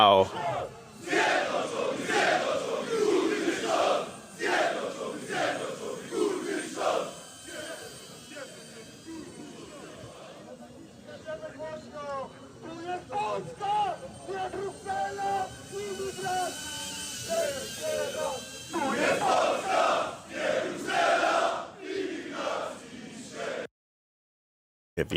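A large outdoor crowd of men roars, cheers and chants in waves, a dense wall of overlapping shouting voices that continues for over twenty seconds before cutting off abruptly.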